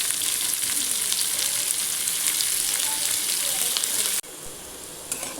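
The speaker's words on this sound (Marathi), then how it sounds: "याला थोडंसं चांगलं असं भाजू देऊ" Onions sizzle steadily in a pan of hot oil for several seconds, a bright close crackle that drops abruptly to a quieter hiss near the end.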